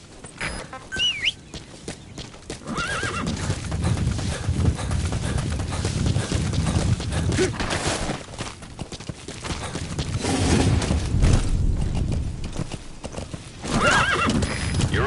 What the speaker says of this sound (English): Planning to walk the whole wilderness on foot? Use your horse.